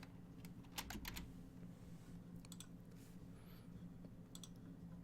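Computer keyboard typing a name, quick bursts of soft clicking keystrokes in short clusters, faint and close over a low background hum, with no talking.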